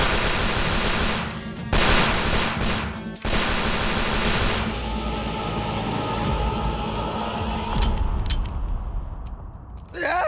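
Loud, dense bursts of rapid gunfire rattle continuously, with brief gaps between volleys and no talking.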